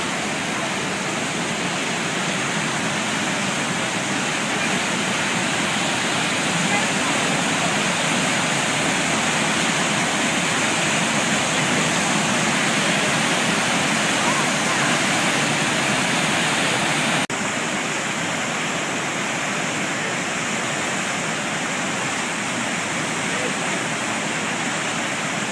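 Waterfall pouring steadily into a river, a dense, even rushing roar that holds unchanged throughout, heard up close without talk.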